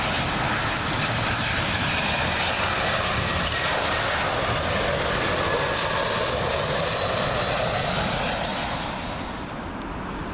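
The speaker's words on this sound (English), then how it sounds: "Next arrival in will be a Eurowings A319. This one coming in from Cologne." A Eurowings Airbus A319 arriving from Cologne comes in to land at Heathrow on runway 27L, a loud, continuous engine roar with rushing air as it passes low and close, easing slightly at the end.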